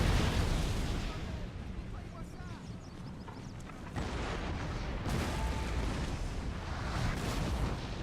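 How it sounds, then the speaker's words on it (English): Artillery fire from British guns in Napoleon: Total War, heavy booms and rumbling blasts rolling into a dense, loud battle din with brief crackles. "Oh, some nice incoming fire from the British. Oh, return fire, boys. I love artillery in this game."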